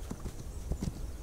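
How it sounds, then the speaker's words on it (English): Horse hooves clip-clop in a steady rhythm in the video game This Land is My Land. A single rider approaches at moderate distance, fairly quiet, with no talk over it. "Looks like someone just on the horse by himself."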